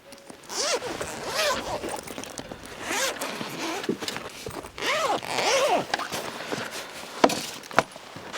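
A zipper is pulled open in several long strokes and short tugs along the carry bag of a compact camping wood stove, close and loud, with bag handling and light rustling between pulls.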